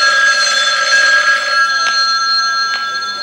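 A loud telephone bell rings on stage during a live comedy performance, a shrill continuous ring that cuts off partway, followed by a couple of sharp clicks.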